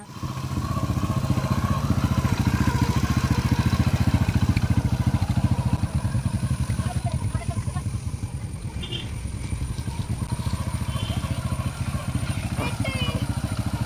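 A motorcycle running close by as it is ridden around a figure-eight driving test track, its steady engine drone continuous throughout with faint background voices.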